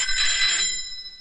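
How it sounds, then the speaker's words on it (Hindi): A telephone bell rings loudly and close in a 1990s Hindi action film scene, one bright metallic burst of ringing that lasts under a second before fading out. "फोन बज रहा है तेरी।"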